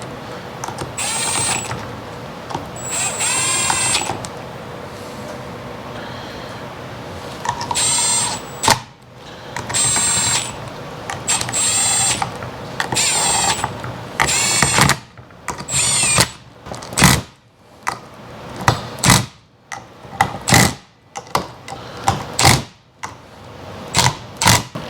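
A power tool torques bolts on a Ford AOD automatic transmission, whirring in repeated short bursts that start as longer runs and turn into quick, choppy pulses, loud and close with no talk.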